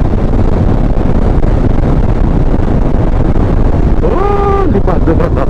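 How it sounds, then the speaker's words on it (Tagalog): Strong wind roars steadily against the microphone on a 400cc motorcycle ride, loud and constant throughout, with a short rising and falling engine or horn tone breaking through near the end. "Lakas ng hangin."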